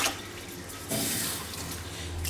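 Three cups of water poured into two cups of washed Dawat basmati rice in a rice cooker, a steady close splashing stream that swells partway through and runs to the end, with no talk.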